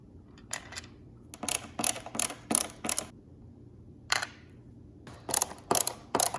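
A screwdriver drives screws into the hand switch of a Flexispot standing desk, with bursts of close, sharp ratcheting clicks separated by short pauses, no talking.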